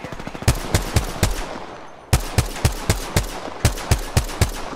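Video game gunfire sounds in quick bursts of sharp shots, a rapid string of loud cracks, a short pause, then two more volleys of evenly spaced shots.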